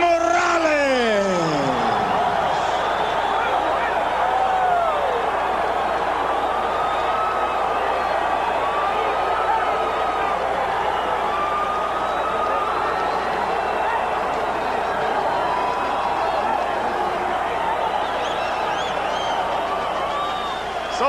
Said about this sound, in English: So the crowd reacts to the split decision.